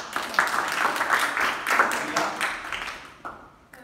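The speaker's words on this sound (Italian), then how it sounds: "applauso." A television studio audience applauds steadily in a dense, continuous patter of clapping that fades near the end, with a brief renewed burst just before it stops.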